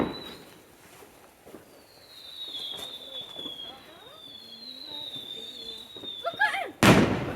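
Fireworks on Bonfire Night: scattered pops and whistling rockets rise in the distance, ending in a sharp, loud bang close by, with faint voices in the background.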